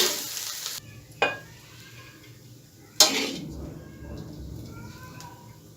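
Chicken fried rice with egg and vegetables is stirred and dished out of a hot pan. A sizzle fades early, then two sharp metallic clanks of a spatula against the pan ring out among softer scrapes.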